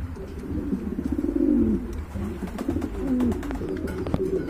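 Domestic pigeons kept in a loft coo in low, rolling throaty phrases, several birds overlapping at close range over steady background murmur.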